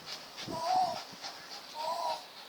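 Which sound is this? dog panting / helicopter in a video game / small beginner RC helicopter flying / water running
dog panting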